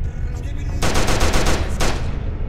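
A new gun fired in a Skibidi Toilet horror video game, a loud rapid burst of automatic shots over steady background noise, with a short break before firing resumes briefly.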